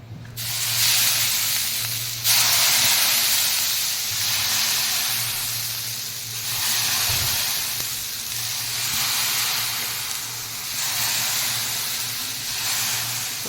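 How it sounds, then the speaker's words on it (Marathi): Bursts of loud, broad hissing steam rise and fall in several waves as salt water is sprinkled on a hot new griddle, a continuous sizzling spray with a low hum underneath. "ते मिठाचं पाणी काय करायचं ह्या गरम तव्यावरच शिंपडायचं"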